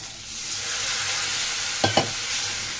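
Yardlong bean and potato curry with chillies sizzles steadily in a hot pan, a bright continuous fry with two quick spatula scrapes near the end, close up.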